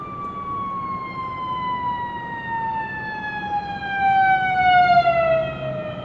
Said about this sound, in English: hold on, there's an ambulance.